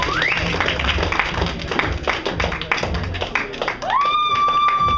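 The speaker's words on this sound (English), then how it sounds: "Give yourselves a round of applause" Audience applause at a comedy show: steady, dense clapping from a crowd that holds for several seconds, then a rising tone cuts in near the end.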